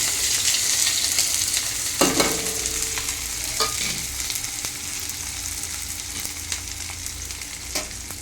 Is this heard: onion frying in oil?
yes